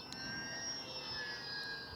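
A Multiplex PA20 Pacer RC plane running on a 4S battery flies overhead, a faint, thin electric motor whine holding steady in the distance with a light hiss of wind.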